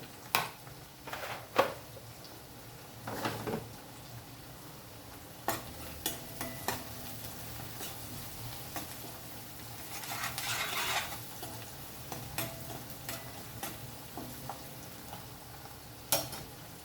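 Fried onions with turmeric are stirred in a pan for gongura chicken: a low sizzle runs throughout, broken by repeated scraping strokes and knocks of the spoon on the metal.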